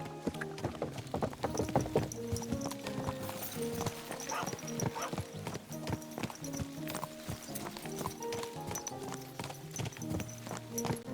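A horse's hooves clip-clop steadily in the medieval video game Kingdom Come Deliverance 2, a brisk rhythmic patter of hoofbeats close by with faint tack and movement noises throughout.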